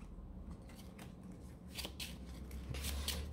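A deck of cards shuffled for a card game, soft riffling bursts that build in quick flurries, close and fairly quiet with no talk.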